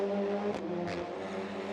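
Race cars from an SCCC sprint at CTMP roar steadily across the start-finish line, a continuous engine drone with two brief swells as cars pass close by.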